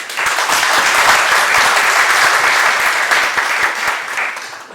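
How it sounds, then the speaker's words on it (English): A London leukaemia trust event audience applauds in a dense, loud, even burst of many people clapping that holds steady and tapers slightly at the close. "let's give a round of applause for Joyce"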